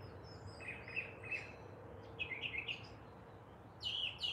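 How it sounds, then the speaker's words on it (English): Birds chirp in short bright bursts of clear tweets, a few calls spaced apart over a quiet outdoor background. "The birds are so pretty again this morning."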